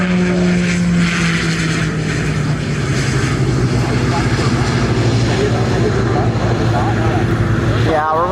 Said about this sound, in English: Now here we got a P180 Piaggio. Oh, what are these weird pusher blades?